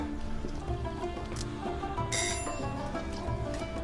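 A doorbell rings indoors at home, with a bright chime burst standing out against steady background noise, and no speech.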